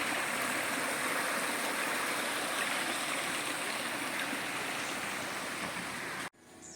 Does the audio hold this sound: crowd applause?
no